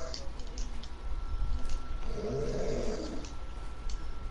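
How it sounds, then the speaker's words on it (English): A man, someone's dad, snoring: rough, steady breathing rasps with a fuller, louder snore swelling partway through, heard through a muffled background. "We just was snoring, bro."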